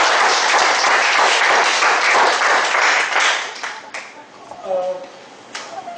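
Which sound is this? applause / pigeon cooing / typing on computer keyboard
applause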